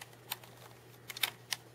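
Mechanical computer keyboard keys being pressed after a sticky key was fixed, a few sharp light clicks, two or three isolated taps and a quick cluster, close and quiet over a faint steady hum.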